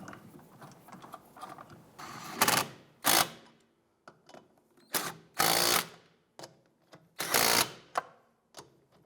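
A power tool snugs down bolts during rear sway bar link replacement on a 2001-2005 Honda Civic, giving about six short, loud mechanical bursts separated by pauses, close by with no talking.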